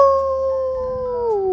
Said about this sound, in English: He heard the noise again. Howl! And again, but this time it was much closer.